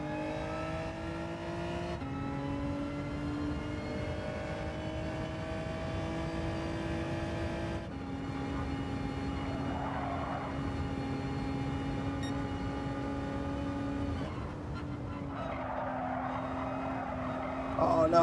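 Race car engines in the driving game Gran Turismo 7, a sustained high whine climbing and dropping with gear shifts and braking, loud throughout, with a commentator talking over it.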